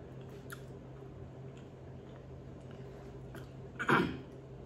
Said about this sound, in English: So I'm just chewing on this side of my mouth